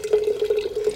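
A thin column of water runs steadily from a pitcher, a close, quiet trickle with a faint bubbling, dripping texture and no voices.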